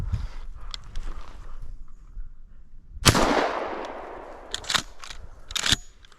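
A shotgun fires at a pheasant during an outdoor hunt in Wisconsin, one sharp, loud blast with a long rolling decay across open ground, bracketed by rustling brush and faint movement.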